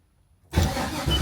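A 1972 Chevelle engine turns over on a start attempt, its low, steady cranking churn bursting in loudly after a moment of silence and running on without catching.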